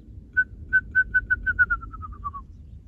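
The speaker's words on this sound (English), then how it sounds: "They have a characteristic call, has a bouncing ping pong ball kind of rhythm." A wrentit in California chaparral gives its call, a series of clear piping notes that speed up and drop slightly in pitch like a bouncing ping-pong ball, close and heard on its own.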